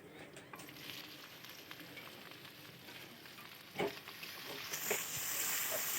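Nigella seeds sizzle in hot oil in a wok, a steady close crackling fry with a clatter of the spoon midway and the sizzle swelling louder toward the end.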